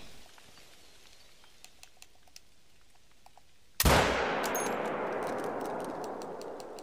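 A single sharp rifle shot rings out in theHunter: Call of the Wild and hits an animal in the heart. It cracks suddenly out of a quiet outdoor scene with faint ticking, then a long echoing tail fades away.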